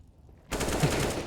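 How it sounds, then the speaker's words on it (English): Gunfire from a Counter-Strike esports match on the Mirage map erupts suddenly after a brief quiet, then continues as dense, rapid, sustained shots at moderate loudness. "hearing a lot of gunshots."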